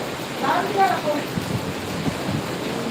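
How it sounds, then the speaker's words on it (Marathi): Steady monsoon rain hisses and patters close by throughout, a continuous wash of sound with people talking over it. "पडत असेल ना पाऊस"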